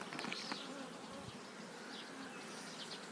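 Honey bees buzz around queen cages being set into a nucleus hive, a faint, continuous close hum with small shifts in pitch as individual bees move past.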